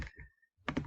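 A few quick keystrokes on a computer keyboard, close and quiet, as two short bursts of clicking separated by a brief pause.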